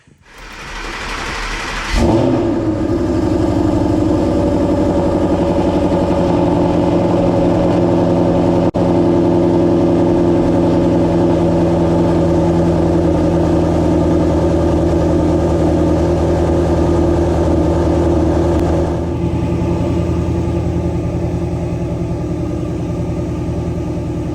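A Ford Coyote 5.0 V8 fires up from a cold start and settles into a loud, steady high idle that runs evenly for over twenty seconds, close to the engine with no talking.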